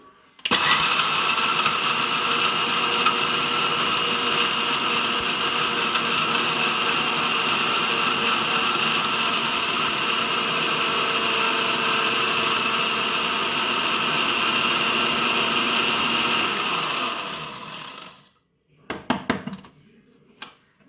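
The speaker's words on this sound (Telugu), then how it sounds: "మిక్సీ అయితే పట్టేస్తున్నానండి." Mixer grinder grinding garam masala spices, whirring loudly and steadily for a long stretch, then cutting off, followed by a few short pulses of the motor.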